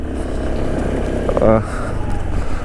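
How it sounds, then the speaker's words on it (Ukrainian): A 2019 Suzuki Address V125 scooter runs with a quiet, low, steady engine hum while rolling down a slope, and a voice speaks briefly over it. "Дуже тихенько працює двигунчик, тихіше явно, ніж попередніх адресиків"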